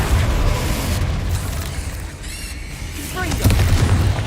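Confringo spell explosions in the video game Hogwarts Legacy, with deep, rumbling booms over a continuous low roar, a brief whooshing sweep near the middle and a fresh burst toward the end, loud and close.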